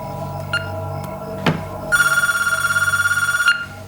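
A telephone rings loudly and close by in a steady, rapidly pulsing burst, following a brief electronic chirp and a sharp knock, with no talking.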